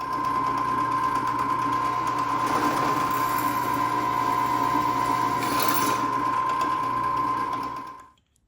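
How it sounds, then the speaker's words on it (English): A drill bores into copper sheet for a custom skillet, whining at a steady pitch with slight rises in grinding as it cuts, then spinning down to silence. "And now everything is prepped to be drilled again."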